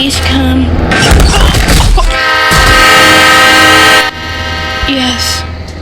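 An approaching train in a car-crashing video game sounds its horn in long sustained harmonic blasts, loud and close, with rumbling mixed in and a short break before the horn resumes.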